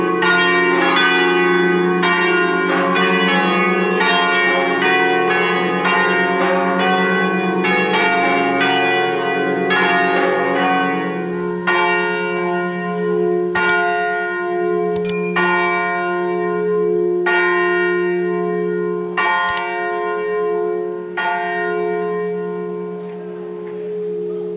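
Church bells peal after an early-morning mass during a pilgrimage in Argentina, with steady overlapping strikes for the first half, then slower, more spaced single tolls ringing out over a sustained hum.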